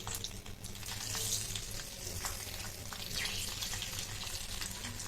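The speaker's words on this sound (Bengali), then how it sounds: "তেলটা গরম হয়েছে, মাছগুলো দিয়ে দিচ্ছি একে একে।" Young hilsa (jatka) fish fry in hot oil, giving a steady, close, hissing sizzle with faint crackles that runs the whole time without talk.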